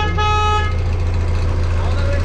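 A tractor horn toots once with a bright tone over a loud, steady engine drone, the honk fading as the rumble continues close by.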